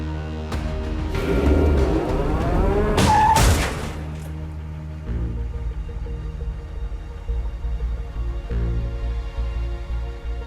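A car brakes, skids and swerves through a quick turn, then its engine hums steadily as it pulls away, with a few sharp bangs early on and no talking.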